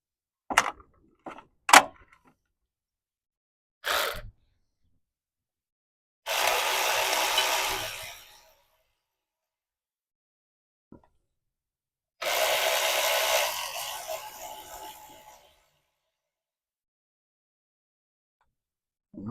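Ratchet work on the front brake caliper bolts of a 1996 Ford E-150 van with a 5.8L engine: a few short clicks and knocks, then two long stretches of steady ratcheting, near and fairly loud, with no talk.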